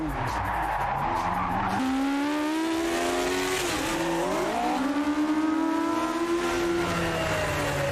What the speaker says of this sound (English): it could well be the fastest accelerating car money can buy